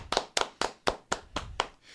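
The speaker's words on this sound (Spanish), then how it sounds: "un aplauso" Slow, deliberate hand claps on a Spanish-language talk show, about seven distinct claps in an even rhythm, close and fairly quiet, with no crowd joining in.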